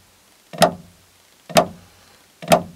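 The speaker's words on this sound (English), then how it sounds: "the left side drag will sound like this from slow to fast." Left side drag drum rudiment played on a drum, three crisp evenly spaced strokes about a second apart, each a sharp close attack with a quick decay.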